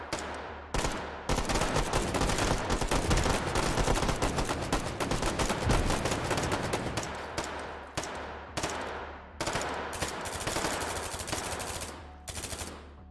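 Gunfire in the VR shooter H3VR, rapid loud automatic bursts of close shots in long strings, broken by short pauses, with no talking.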